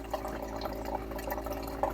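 Water trickles and drips steadily from a stokk E1/T1 Lite RO filtration system, a soft continuous flow with small splashy droplets, fairly quiet and close.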